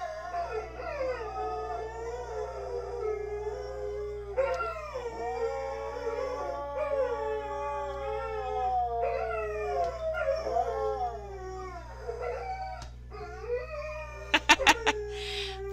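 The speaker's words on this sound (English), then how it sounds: "Sorry, my dogs howl when a siren goes by." Several dogs howl together at a passing siren in long, wavering, rising and falling wails, fairly close, with a few short yips near the end.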